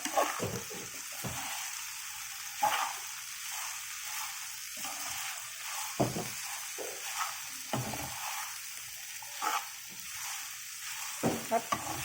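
Okra frying in a pan gives a steady, close sizzle, broken by repeated scraping strokes as it is stirred, with no talking.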